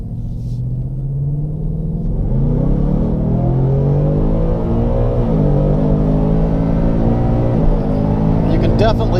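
A supercharged Ford Coyote 5.0 V8 car accelerates hard, with a loud, close, rising engine roar and a rumbling, uneven drone as traction control cuts power, heard alone without talk.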